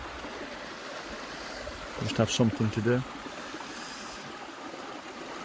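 A shallow river burn in Scotland flows with a steady, fairly quiet rush of water, heard while gold panning, and someone speaks briefly partway through over the continuous flow.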